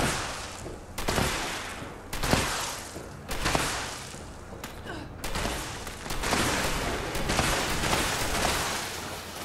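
Repeated bursts of gunfire in the video game Fallout 76, a series of loud, sharp volleys arriving in uneven clusters over nearly ten seconds.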